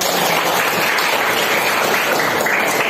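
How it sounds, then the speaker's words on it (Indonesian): Schoolchildren clap together in an Indonesian classroom, a loud, dense and continuous burst of hand clapping close by that stays even for the whole moment without talk. "Tepuk tangan."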